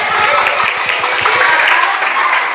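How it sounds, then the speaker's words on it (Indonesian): Schoolgirls at an Islamic junior and senior high school counseling session clap together in a dense, steady round that fills the whole short stretch, with no talk over it. "Oke, tepuk tangan."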